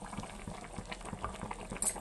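Fish curry with mango simmers in a pot, a close, steady bubbling boil with soft gurgling pops and no voices.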